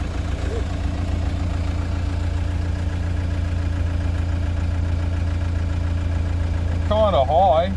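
A 2015 Toyota Prado with the 1KD-FTV diesel engine idles steadily and loudly up close, a constant low rumble with knocking and an inlet manifold removed; a voice briefly speaks near the end.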